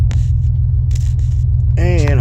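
Vehicle on a highway in the evening, heading to a snowy campsite, with a loud steady road rumble and engine drone throughout; a voice speaks over it near the end.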